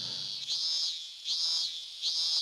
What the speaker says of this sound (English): Roused by the loud cries of the cicadas